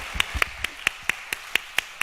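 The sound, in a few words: church congregation applauding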